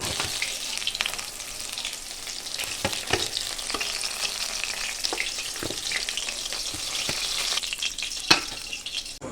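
Rohu fish pieces fry in hot oil in a wok, giving a continuous close sizzle with scattered sharp crackles and occasional spatula clicks and scrapes, with no voices.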